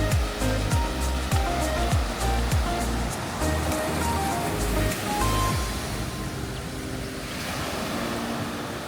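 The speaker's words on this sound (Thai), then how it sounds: "คลื่นแรงมาก" Strong sea waves crash onto a beach in a loud, steady roar of surf with a wind-like rush, close by and continuous, with no voices.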